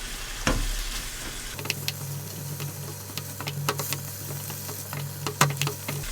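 Beef fried rice with green onion stir-fries in a pan, a steady close sizzle with scattered clicks and scrapes of stirring throughout.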